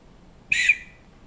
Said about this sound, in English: And then we also have a whistle.